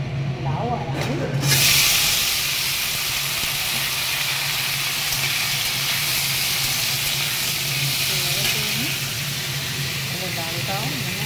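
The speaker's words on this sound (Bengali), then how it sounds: "এবারে দিয়ে দেবো লাউ আর আলু।" Bottle gourd and potato drop into hot oil already spiced with dried chilli, cardamom, cinnamon, bay leaf and asafoetida, setting off a sudden loud sizzle that hisses on steadily while a voice talks faintly over it.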